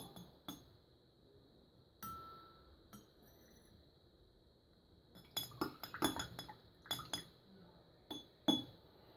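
Plastic pieces stirred in a glass of liquid, sharp clinks and rattling taps against glass in irregular bursts, close and fairly quiet, with a faint steady hum between.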